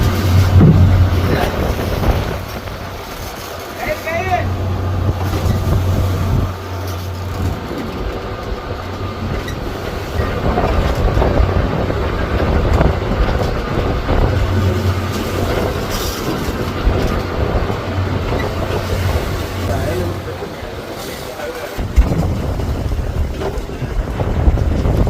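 A fishing boat motors across the open sea, its engine droning low and steady under rushing wind and water noise, with a deeper hum that comes and goes and sounds close throughout.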